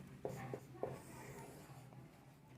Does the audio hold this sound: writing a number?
yes